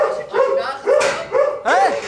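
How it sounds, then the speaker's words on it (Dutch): A police dog gives a short series of loud, close barks and yelps, four or five in quick succession with brief gaps between them. "Ze gaan nu nog een andere hond unleashen."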